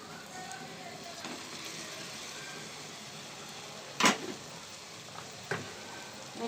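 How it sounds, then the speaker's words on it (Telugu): Ginger paste fries in a pan for egg biryani, a steady close hiss and sizzle with a few sharp bursts and stirring clatters. "కొంచెం సేపు ఇది అల్లం పేస్ట్ వేగనిద్దాం, పచ్చివాసన పోయే వరకు వేయించేసుకొని"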